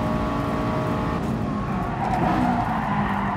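A Subaru Impreza 22B with four-wheel drive in Gran Turismo Sport brakes late and hard, sliding sideways with a loud, close engine drone and a rising tire scrub across a few seconds, no talk.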